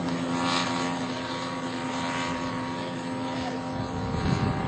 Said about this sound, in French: Cet avion, c'est un Ryan.